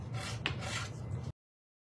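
A scraping tool dragged vertically across a textured mixed media background, giving a steady rough rubbing rasp with one sharper scrape midway, close and alone for about a second and a half before stopping.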